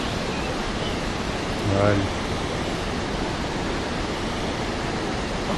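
A river in Yosemite park rushes in a steady, full broadband wash of flowing water that stays even throughout, with a brief voice heard once near the start.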